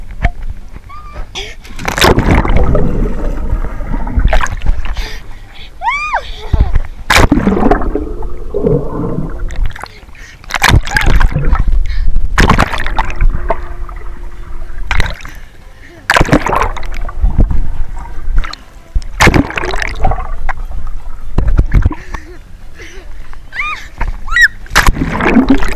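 Water splashing and sloshing in a swimming pool with a group of friends, bursts of splashing recurring through the clip, with voices talking close by.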